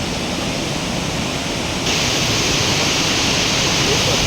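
Water flowing through a channel between hills makes a steady, close, full rush of noise; it holds even and grows slightly brighter and louder partway through, with no voices.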